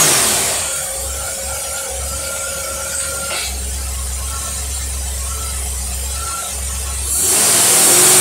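The engine of a mud truck with a freshly rebuilt carburetor runs steadily at a loud, rough mid-pitched idle, then revs sharply upward at the end.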